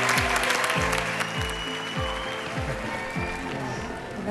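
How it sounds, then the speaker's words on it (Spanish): Large studio audience applauding loudly and steadily on a televised singing talent show's blind auditions, with a dense roar of clapping over low music. "Y te vamos a aplaudir deseándote la mejor de las suertes en este camino."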